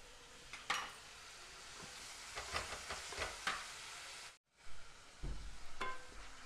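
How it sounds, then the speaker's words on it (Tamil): Onions and ginger-garlic paste fry in a pan for cauliflower gravy, a soft hiss punctuated by several sharp scraping clicks of stirring, a brief dropout near the end before the sizzle returns. "வெங்காயம் நல்லா ஃப்ரை ஆகிடுது"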